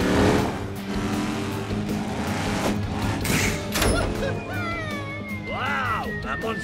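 A monster truck launched off a ramp and flying through the air: a continuous loud engine roar with revving and tire-like squeals, close, while an excited voice talks over it.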